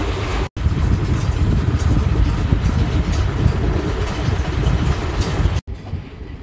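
An ICF-coach Sabari Express train runs at speed, filling the space with a steady, loud, broadband rumble and rattle of the coaches on the rails, briefly cut at the start and the end.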